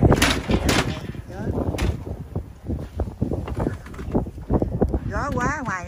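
Strong wind gusts roar and buffet the microphone in a heavy snowstorm in the northeastern United States, loud and continuous with rumbling bursts, and a voice is heard briefly near the end.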